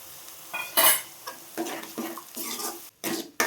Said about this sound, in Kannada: ಸ್ವಲ್ಪ ಫ್ರೈ ಮಾಡ್ಕೊಳ್ಳೋಣ ನೋಡಿ ಇದು ಆಗಿದೆ ಈಗ ಚೆನ್ನಾಗಿ ಕುದೀತಾ ಇದೆ